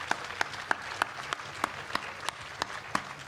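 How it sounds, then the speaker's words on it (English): Live festival audience applauding at a comedy-science stage show, a dense wash of clapping with distinct sharp individual claps standing out at a steady rhythm, fairly close and moderately loud, without talk. "Give on. her a big round of applause."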